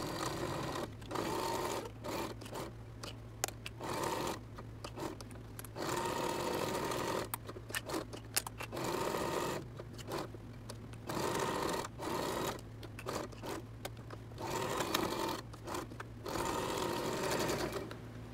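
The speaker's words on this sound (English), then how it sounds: "you're going to sew at a quarter inch allowance" A sewing machine stitches fabric at a quarter inch seam allowance while making reusable period product shields, running in long steady bursts with brief pauses between them, close and clear, with no voices.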